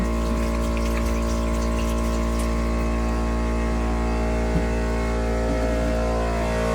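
A pump pumping water out of a cottage system during winterizing drones with a constant low mechanical hum and a faint watery hiss, steady and close throughout, with no voices.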